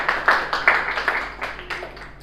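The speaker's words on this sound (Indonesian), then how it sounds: "Oke, bagus. Tepuk tangan." Students clap in an Indonesian classroom lesson, a short burst of several separate claps in an uneven rhythm, close and moderately loud, fading toward the end.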